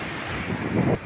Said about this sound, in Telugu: ఆ నీటి ఓరవాడి శబ్దం వినిపిస్తుంది కదా